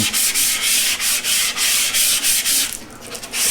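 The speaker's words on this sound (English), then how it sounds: "it's a very minimal amount of sanding that needs to take place" Steady back-and-forth scratching of sandpaper on softwood between polyurethane coats, rhythmic strokes repeating about every third of a second, close and continuous, with no voices.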